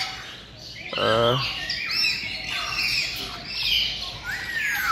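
Harsh, loud squawking calls from macaws at Kolkata Eco Park, overlapping and repeated, with a few chirps and a brief low voice near the start.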